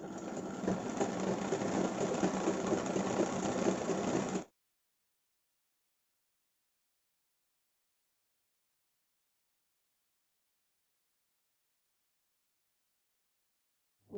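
An electric sewing machine stitches across the ends of chudi pant fabric in a fast, steady whir for about four seconds, then stops into silence.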